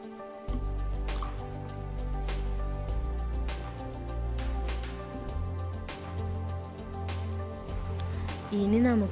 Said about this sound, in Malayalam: അതിലേക്ക് നെല്ലിക്ക കൂടി ഇട്ട് കൊടുത്തതിന് ശേഷം അതിലേക്ക് വിനാഗിരി കൂടി ചേർത്ത് കൊടുക്കാം